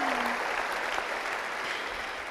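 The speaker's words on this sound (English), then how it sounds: "Yeah, we should clap for that." An audience at a Global Citizen award event applauds an acceptance speech. Dense, steady clapping from a large crowd fills the full two seconds at an even, moderate volume.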